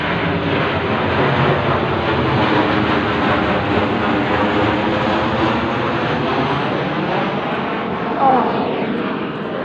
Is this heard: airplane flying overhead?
yes